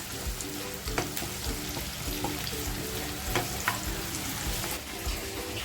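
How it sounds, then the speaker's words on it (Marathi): Onion frying in a generous amount of oil until reddish, a constant loud sizzle with occasional crackles and spatula scrapes, no voices. "कांदा पूर्ण लालसर होईपर्यंत आपल्याला हा फ्राय करायचे तेलामध्ये"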